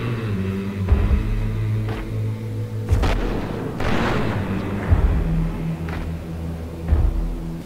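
In GTA 5, a deer hunt in a forest sends out several loud gunshot booms at irregular intervals. The heavy, reverberant blasts ring out over a steady low droning background.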